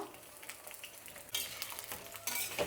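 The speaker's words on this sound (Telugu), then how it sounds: "ఇలా కలుపుతూ మగ్గించుకోవాలి." White brinjal cooks in oil in a pan while being stirred for a dal dish: quiet scraping stir strokes over a faint, soft sizzle.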